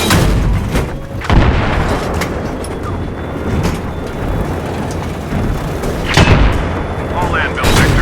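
Heavy booms from M1 Abrams tank cannons fire in a battle among several tanks, with two big blasts near the start and two more later over a constant rumbling din, while voices shout through it.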